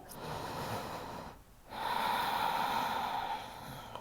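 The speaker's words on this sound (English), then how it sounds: "And we'll breathe here for 3." Slow, deep breaths are taken while holding a seated yoga fold over the thigh. A long airy exhale is followed by a brief pause and then another long breath, close and soft, with no talking.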